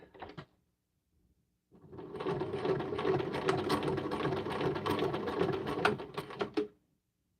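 Domestic sewing machine running a zigzag stitch on quilting fabric, one steady mechanical whir lasting about five seconds after a brief tap, ending abruptly.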